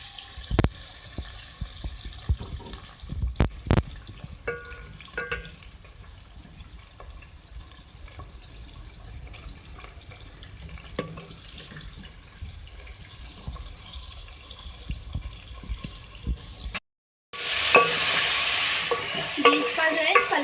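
Beef pieces hitting hot oil for a Eid beef masala, a loud, broad sizzle bursting up near the end after a quieter stretch of faint clinks and stirring.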